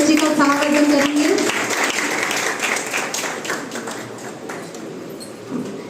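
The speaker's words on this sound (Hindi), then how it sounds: "जोरदार तालियों से बच्चे का उत्साहवर्धन करेंगे" An audience applauds a student receiving a gold medal at a medal distribution ceremony, a dense wash of clapping that starts loud and gradually thins and fades, with a voice speaking over it at the start.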